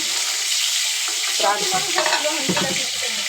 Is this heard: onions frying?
yes